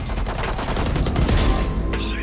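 Gunfire in the video game Valorant, a dense rapid burst of shots and booms filling the clip, loud and continuous.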